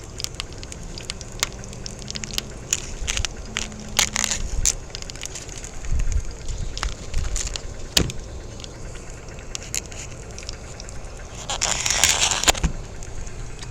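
Aluminum foil crinkles and crackles close by while steaks are wrapped outdoors, with irregular rustling bursts through the clip, a louder flurry near the end, over a windy background.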